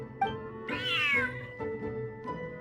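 A cat meows in the Genshin Impact video game, a clear, rising-then-falling meow over soft background music with a shorter chirp near the start and a faint one at the end.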